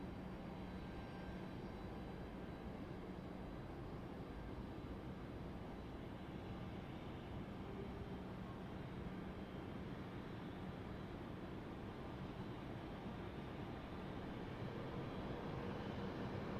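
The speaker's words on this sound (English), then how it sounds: "Next BA City Flyer is off to Faro" A British Airways CityFlyer plane departing London City Airport, heard as a steady, distant, fairly faint engine roar that holds evenly throughout with no voices.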